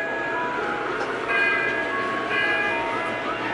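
Model trains run in a year-round display collection beside a little Christmas village, giving a steady, even whir and rumble with faint thin ringing tones drifting above it.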